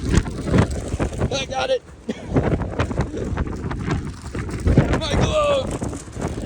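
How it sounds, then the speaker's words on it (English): Strong wind roars and buffets across a roof during a rebuild, gusting steadily throughout with microphone rumble, while people talk over it. "Wind is killer."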